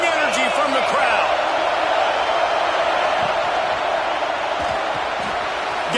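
A football stadium crowd at a Florida Gators game roars steadily and loudly throughout, a dense wash of cheering under a commentator's voice.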